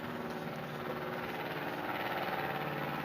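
The retractable engine of an RC44 racing sailboat runs with a steady, low mechanical hum, a continuous even drone at close range with no talking.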